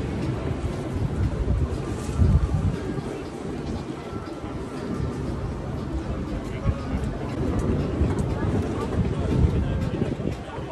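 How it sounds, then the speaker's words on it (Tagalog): Strong cold wind buffeting the microphone on a street in Asakusa, Tokyo, a rough, gusting low rumble that swells and fades, mixed with distant crowd murmur and voices nearby. "Ang lakas ng hangin."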